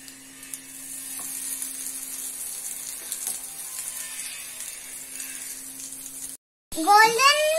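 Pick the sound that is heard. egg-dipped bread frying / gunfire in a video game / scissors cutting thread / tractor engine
egg-dipped bread frying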